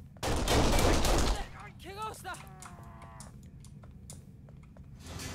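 A loud burst of rapid gunfire from Kane and Lynch: Dead Men lasts about a second, followed by quieter game ambience with a voice and scattered clicks.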